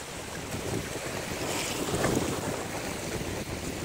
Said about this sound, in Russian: Ой, да, ветрено.